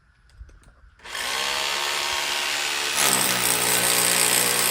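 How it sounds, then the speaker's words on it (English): A jackhammer breaks into a bathroom wall, starting abruptly after a moment of quiet and then hammering loud and continuous close by, growing harsher partway through. "wall from inside our bathroom with the use of jackhammer"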